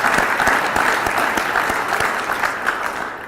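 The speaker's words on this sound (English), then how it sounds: "So a little round of applause." Steady audience applause at a conference, many hands clapping in a dense, continuous patter that fades slightly toward the end.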